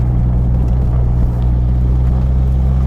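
A Toyota MR2 Turbo with a limited-slip differential and a lighter flywheel lugs along a mountain road at about 2500 RPM in too high a gear. It makes a loud, steady, low engine drone that fills the whole stretch with no voices.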